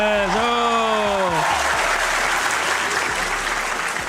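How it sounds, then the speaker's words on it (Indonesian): An audience breaks into loud applause right after someone speaks over it briefly at the start, then sustained dense clapping fills the room. "kasih tepuk tangan dulu buat Antonius"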